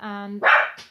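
A dog gives a short whine that turns into one sharp bark, close and clear, then falls quiet.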